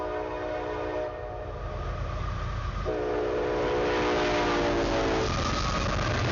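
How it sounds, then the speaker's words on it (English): A train rolls steadily past nearby, a continuous rumble with sustained horn-like tones sounding twice, no voices. "as the rolling stock passes"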